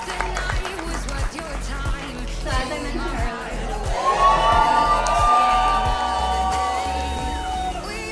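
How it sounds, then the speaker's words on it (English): Wedding guests cheer and whoop for the bride, with scattered clapping and excited shouts building into a loud crowd swell that holds through the second half, mixed with indistinct chatter. "round of applause for the bride"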